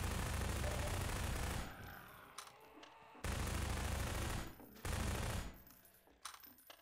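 Sustained automatic fire from a reskinned AR2 rifle in a Half-Life 2 fan-made map mod, loud continuous bursts broken by short pauses near 3 and 5 seconds, ending in a ragged final stutter.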